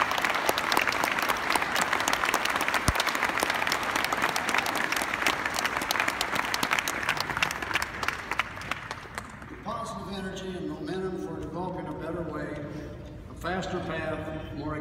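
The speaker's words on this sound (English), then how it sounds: "Let's give you a round of applause." Hall of Fame induction audience applauding in a hall, dense sustained clapping that fades into a speaking voice over a lighter patter of claps toward the end.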